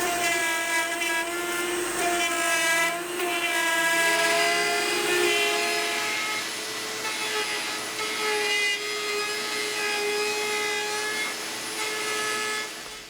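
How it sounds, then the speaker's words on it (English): A router fitted with a small 3/32-inch spiral down-cut bit whines steadily at high speed while routing out a pearl inlay on a Martin D-45 guitar, with slight shifts as the cutter bites into the material. "I actually start routing this because of the dust."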